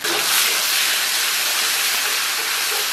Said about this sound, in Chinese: 咱们把这个葱姜给它下里边，简单的爆一下香，然后给里边来一勺辣椒酱